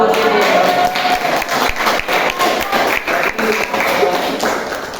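An audience applauds at the close of a university lecture on vector control, with steady clapping filling the whole stretch at close range, no talk over it.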